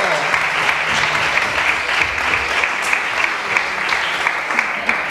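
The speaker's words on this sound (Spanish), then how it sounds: "Un aplauso para el público, maravilloso" A Christmas concert crowd in San Juan de Aznalfarache bursts into loud, sustained clapping for inclusive orchestras, a dense rattle of hands with a voice faintly over it.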